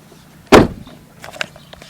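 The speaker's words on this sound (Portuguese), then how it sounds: "Agora eu vou fechar a porta." A car door shut with a single loud thud, followed by a few faint clicks and rattles.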